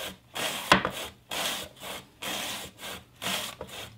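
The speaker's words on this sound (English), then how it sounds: "we're gonna use our mandolin, and we're gonna use like a shredding kind of blade, which is gonna cut in long thin strips" A mandolin with a shredding blade cuts zucchini into long thin strips: rhythmic rasping strokes, about six in a row, close and moderately loud with brief pauses between passes and one sharp click near the start.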